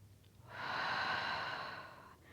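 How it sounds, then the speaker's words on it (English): One slow, deep breath during a yoga session for lower back and abdominal strength, an airy rush swelling and easing over a couple of seconds, close and fairly quiet with no talking. "Full breath into the lungs."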